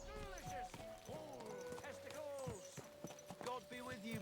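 Horse hooves clip-clop along a medieval town's main road in Kingdom Come Deliverance 2, a steady close rhythm of hoofbeats under a busy mix of townsfolk voices talking.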